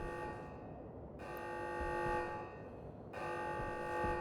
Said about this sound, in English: I do love the little alarm